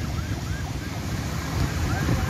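A fire brigade siren in Malvani wails loudly and continuously beneath heavy street noise, with faint rising and falling sweeps.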